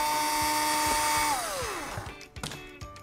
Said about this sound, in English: on the corner of the book is where I'm going to drill.